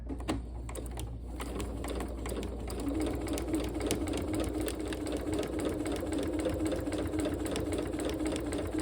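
A sewing machine stitches a reversible, washable cotton tote bag, its steady motor hum and rapid needle clatter running continuously and close for about nine seconds with no talk.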